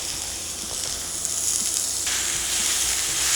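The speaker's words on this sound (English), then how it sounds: "add about 1 pound of ground beef and 1 pound of ground pork to a skillet that we are heating over medium-high heat" Ground beef and ground pork sizzle loudly in a skillet over medium-high heat, a steady close hiss that swells slightly toward the end, with no talking.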